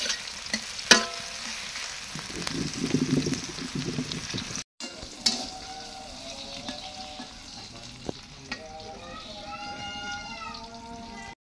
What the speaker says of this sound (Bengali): পেঁয়াজ কুচি। এটা এখন ভালো করে লাল লাল করে ভেজে নেব।